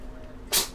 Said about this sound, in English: I just felt her sneeze cat boogers on my back.